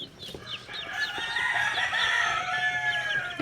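Chickens on a farm cluck and call close by, with repeated short clucks and a drawn-out crowing cry in the middle, while a brief low voice is heard at the end.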